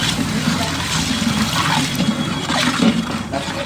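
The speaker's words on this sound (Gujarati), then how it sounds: "આની અંદર નાખવાનું થોડુંક પાણી." Water is poured steadily into a mixture of tomato, ginger and green chili for a Kathiyawadi curry, a continuous, close and fairly loud rushing splash that lasts throughout.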